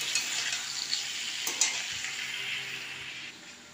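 Ground spices frying with pieces of potato and pointed gourd in a pan, a close, bright sizzle with quick stirring scrapes, slowly fading toward the end.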